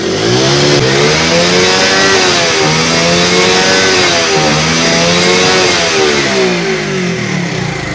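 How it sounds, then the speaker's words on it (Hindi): A motorcycle engine with a misfiring problem after a water wash or rain revs repeatedly, pitch rising and falling in waves with the throttle, loud and close with no talking. "अब मैं यहाँ से इसको एक्सीलेटर दे रहा हूँ"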